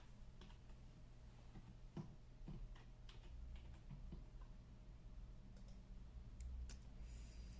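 Quiet, irregular clicks of keys being pressed, a few taps at a time, close but faint over a low background hum.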